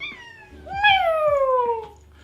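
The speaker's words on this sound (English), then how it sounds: "She's very vocal. She's a very talkative cat." A talkative house cat gives one long, drawn-out meow that rises and then slowly falls, loud and close, with a few faint background noises.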